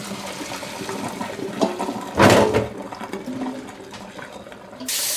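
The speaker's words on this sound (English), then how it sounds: "Just rinse the beef brisket out with cold water." Cold tap water runs over boiled beef brisket in a strainer, a steady splashing rush with a louder, fuller gush partway through before it settles back to a lighter trickle.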